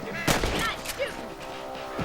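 A single sharp rifle shot cracks out early in Red Dead Redemption, set against a busy background of game ambience and music, with a voice speaking over it.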